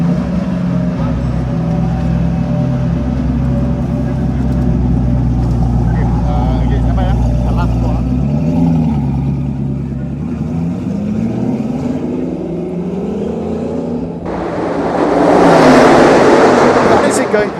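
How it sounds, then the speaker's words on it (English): A Bugatti Bolide hypercar on the Sepang racetrack: a deep engine note rises and fades as it goes past, then a loud burst of noise near the end, with someone talking over it. "That is it going past, and that is going past faster than any of the GT3 cars are going to go today."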